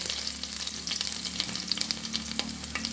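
Mustard seeds crackle and pop in hot coconut oil while uppittu is being prepared, with a steady close sizzle and sharp spattering pops and no talk.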